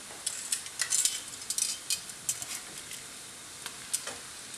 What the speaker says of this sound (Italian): L'olio è caldo, andiamo a immettere la cipolla. Possiamo aggiungere ora il coniglio.